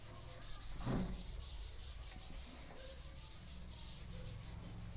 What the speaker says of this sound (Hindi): मैं यहां इसको इरेज कर देता हूं